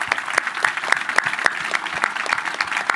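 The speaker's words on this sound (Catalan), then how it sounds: "Un aplaudiment." A small audience at an inauguration event claps in an even, rhythmic pattern, distinct individual claps repeating about three times a second, close and moderately loud.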